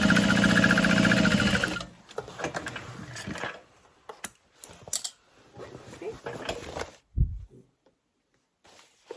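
A sewing machine bastes tote bag pieces in place, running in a fast, loud, steady stitching burst for about two seconds before stopping, followed by quiet fabric handling and a soft voice talking.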